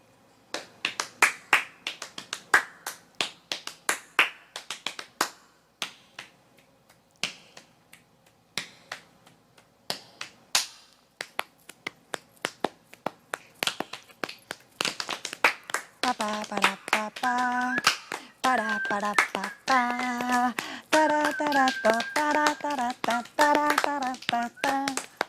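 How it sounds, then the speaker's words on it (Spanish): Body percussion: crisp finger snaps and hand claps in rhythmic patterns, sparse at first and then denser, close and clear, with a sung or hummed melodic line joining in the second half. "tenemos los chasquidos, las palmas"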